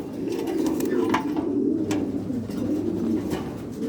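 Pigeons in a loft coo steadily in low, throaty rolling calls, a continuous close chorus with no talking over it.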